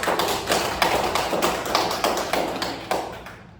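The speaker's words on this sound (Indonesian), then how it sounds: "Beri aplaus untuk perwakilan dari kelompok" A classroom full of students claps in applause, a dense, steady patter of many hands close by that carries on for several seconds before tapering off at the end.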